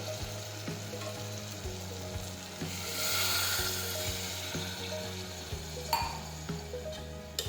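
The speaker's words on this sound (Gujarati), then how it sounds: "હવે આપણે તેમાં પાણી ઉમેરી દઈશું." Spiced vegetable masala of brinjal, potato, tomato, drumstick and peas sizzles steadily in a pressure cooker as water is poured in. The hiss swells briefly midway, with faint scraping and stirring underneath.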